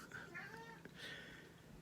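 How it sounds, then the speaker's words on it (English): A house cat meows faintly in the background behind a quiet indoor room, with a few soft, drawn-out calls rising and falling over about two seconds. "if you hear my cat behind me"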